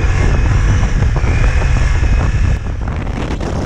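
A Ducati Multistrada V4S motorcycle engine pulls under throttle on a test ride in Queensland, a loud low roar blended with heavy wind rush, easing slightly toward the end.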